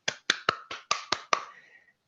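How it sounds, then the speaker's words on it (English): A single person clapping at a conference session after a talk, seven sharp, close claps in a quick, slightly uneven rhythm, then silence. "I think you only heard one person clapping."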